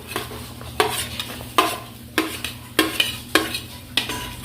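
Chopped onion sautéing in butter in a pan for pasta, with a steady sizzle broken by regular scraping stirs about every half second, close and moderately loud, no talking.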